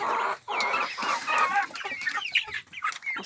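Chickens and a rooster cluck close by in a poultry coop, a dense, continuous flock chatter with rising squawks and short calls overlapping throughout.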